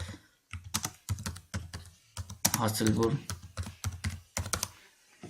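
Typing an address on a computer keyboard: a quick run of distinct key clicks in short bursts while someone talks over them.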